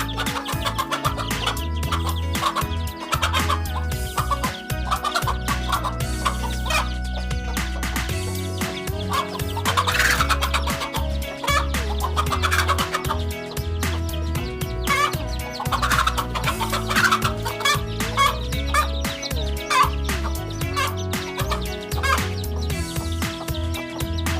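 Hens cluck repeatedly over steady background music, the calls blending into a busy, continuous mix.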